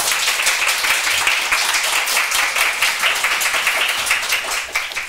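Studio audience applause on a Russian TV show, dense and sustained clapping from many hands, loud and even throughout with no talk over it.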